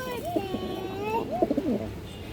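Pigeons coo close by, in a low rolling call followed by a short burst of throaty notes, with soft background noise and faint talking.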